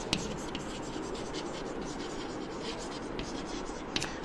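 Chalk or marker scratching across a classroom board, a continuous rough scraping stroke with a few sharp taps, fairly quiet and unaccompanied by talk.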